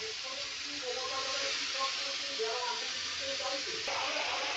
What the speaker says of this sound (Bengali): কড়ায় বিনস আর গাজরটা দিয়ে একটু ভেজে নেব